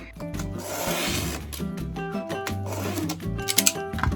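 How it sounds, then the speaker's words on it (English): A blade cuts a new flap into a cardboard shipping box with close, rough rasping strokes, several in a row, and ends in a few sharper scrapes. "and cutting a new flap"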